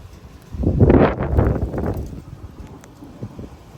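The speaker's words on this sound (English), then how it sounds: "The wind's picking up." Strong wind gusts in the outer bands of a severe thunderstorm buffet the microphone in a rumbling, roaring surge that swells, peaks, and then eases into a lower steady rush.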